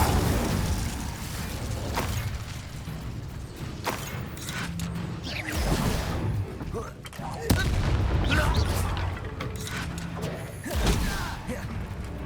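Hogwarts Legacy spellcasting, an Incendio fire spell bursting out in whooshing, crackling blasts amid creaking and thumping combat effects, moderately loud with several distinct hits.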